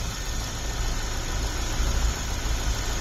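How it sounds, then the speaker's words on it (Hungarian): A Nissan Note 1.4 petrol engine idles with belts turning, a low, even, quiet hum with faint vibration, heard up close with no talking. "Tehát jár a motor, hihetetlen, forognak a szíjak, és alig-alig lehet hallani különben"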